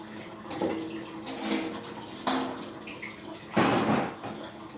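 RO-filtered water is poured into a wide kneading basin ready for dough, splashing in several distinct close gushes that come and go, with no talking.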